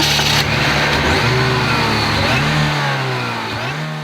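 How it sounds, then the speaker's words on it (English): A supercharged 2-litre GM Ecotec four-cylinder in the SS revs loudly and continuously, its pitch climbing and dropping through several rises with a steady engine roar close up and no talking. "The supercharged version of GM's 2-litre Ecotec engine slams 205 horsepower and 200 pounds-feet of torque to the pavement with authority."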